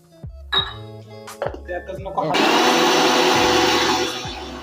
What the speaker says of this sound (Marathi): आता आपण त्याला दळून घेऊया।